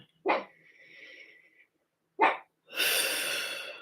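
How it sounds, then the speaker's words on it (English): A small chihuahua barks twice in short, sharp bursts close by, with a breathy whine between them, followed by a longer harsh, noisy yelp or growl. "I have a very cute chihuahua who sometimes barks and sometimes doesn't bark"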